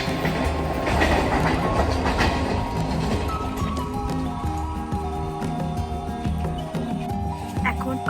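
A passenger train runs between Chinsurah and Bandel, its steady loud rumble and rail clatter filling the whole stretch, with a brake or wheel squeal in the second half and faint voices beneath.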